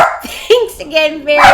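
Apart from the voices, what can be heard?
dog barking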